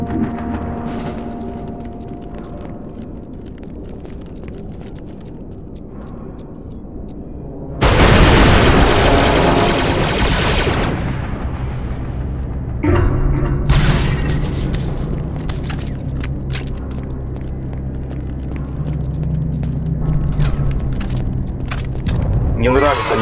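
Distant battle rumble in the video game Star Wars: Republic Commando, then a sudden loud blast, followed by more booms and bursts of gunfire, with talk in between.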